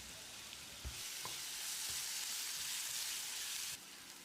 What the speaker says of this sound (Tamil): இதையும் போட்டு ஃப்ரை பண்ணிக்கலாம்.